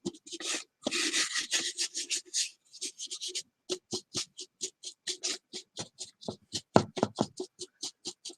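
Alcohol ink is rubbed and dabbed onto a gourd, giving soft scuffing strokes that turn into a quick series of close, sharp tapping dabs, fairly quiet and alone.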